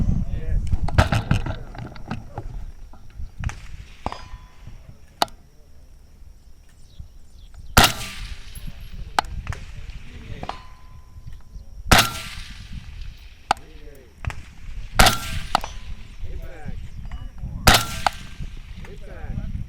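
Gas gun shots ring out at a shooting range with steel targets, sharp loud reports spaced every few seconds, some followed by faint metallic rings, over background noise and occasional voices.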